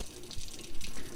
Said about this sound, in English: Today we're going to be working on a faucet that's running slow